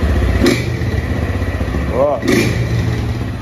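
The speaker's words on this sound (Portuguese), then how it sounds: "Só vamos ligar ela aqui pra vocês relembrar o barulho do torbal," A Honda Titan 160 motorcycle with a tin exhaust runs steadily close by, its engine rumbling through the whole stretch with a couple of brief revs, while someone speaks a word over it.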